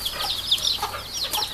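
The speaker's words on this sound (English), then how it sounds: "the chickens are just grazing" Hens on a farm cluck and chirp in short, close, busy bursts with no talk.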